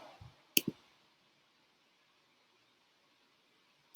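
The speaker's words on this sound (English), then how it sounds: "So I'm going to just click on it" A computer mouse gives a couple of quick, close clicks in near silence, then one more sharp click after a long pause.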